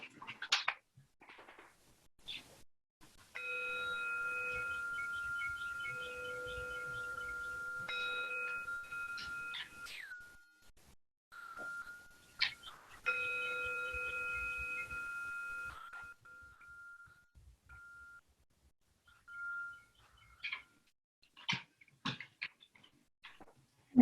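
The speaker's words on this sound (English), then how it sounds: "just taking a moment to tune into the sound of the bell" A meditation bell is struck twice in a quiet room, each strike a clear ringing tone with bright overtones that hangs for several seconds and slowly fades. Soft rustles and small clicks come between and after the strikes.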